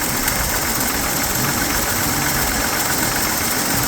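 Running engine with a jingling connecting rod, heard up close through a mechanic's stethoscope as a steady, dense mechanical clatter throughout, with no voices.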